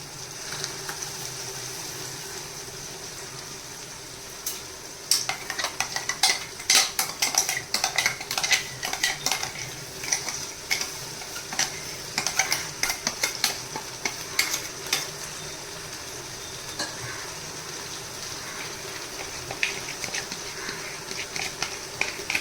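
Onion and tomato frying in a pan for chicken pulao, with a steady sizzle under a spoon or spatula scraping and clinking against the metal in irregular bursts, close and fairly loud, no voices.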